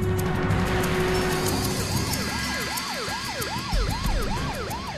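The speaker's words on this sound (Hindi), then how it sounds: "एम्बुलेंस आ गई है" An ambulance siren wails in rising and falling sweeps, growing clearer over steady traffic rumble.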